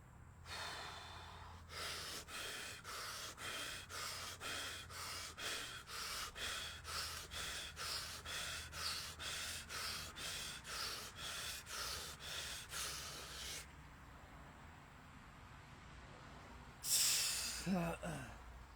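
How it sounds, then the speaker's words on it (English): A person doing a breathing exercise, heavy rhythmic breaths repeated steadily for about twelve seconds, loud and close, ending in a sharp exhale. "Maybe I'll do the breathing exercise again."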